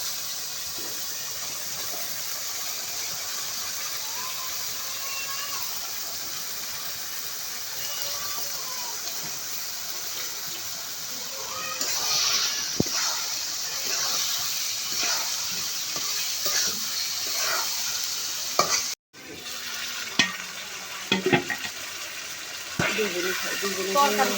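Chicken meat dropped into cooked spice paste in a pan, a steady soft sizzle that grows louder and more crackly midway, with stirring clatter and someone talking over it.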